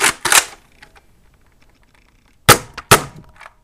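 A Nerf Elite Rough Cut blaster fires foam darts with sharp snapping cracks, two close together at the start and two more after a quiet pause, with faint mechanical clicks between them.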